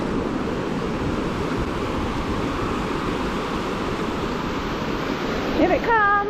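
Ocean waves crash over a sandbar as steady, roaring surf with wind noise, loud and continuous, with a brief voice-like sound near the end.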